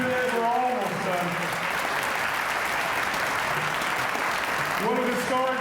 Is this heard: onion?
no